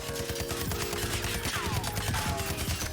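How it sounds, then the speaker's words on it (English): SCAR rifle fired from the hip in a shooter game, a rapid automatic burst of sharp, closely spaced shots lasting the whole few seconds, loud and close with no talk. "Let's have a look at what the hip fire looks like without moving the mouse"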